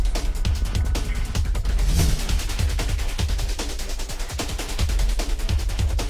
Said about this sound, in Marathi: आज सकाळीच पुन्हा एकदा जम्मू काश्मीर येथील बडगाम परिसरात गोळीबार सुरू झाला